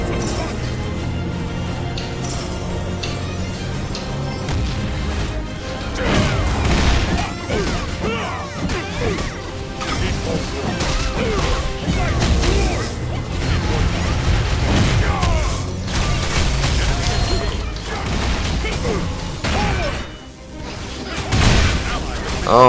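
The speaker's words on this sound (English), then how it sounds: "So let's break this upper lane turret." Attacking and breaking a lane turret in the game Hyper Universe, a dense loud barrage of smashes, bursts, thuds and impact booms layered over game music, nearly continuous for over twenty seconds.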